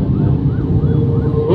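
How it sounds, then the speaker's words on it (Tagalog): An emergency vehicle siren, ambulance, fire truck or police, wails steadily on a road, loud and continuous with a slowly rising and falling tone over traffic rumble, with a louder burst at the end. "Narinig nyo mga kaibigan, merong emergency o nagwawangwang, either na ambulansya, bumbero, ano ba,"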